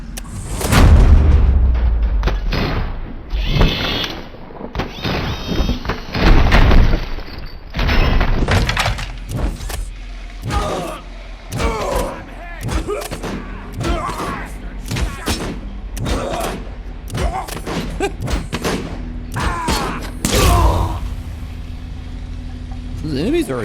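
Automated turrets in the shooter Robocop Rogue City fire rapid bursts of gunfire, with booming, cracking impacts scattered throughout. Someone talks over much of the shooting.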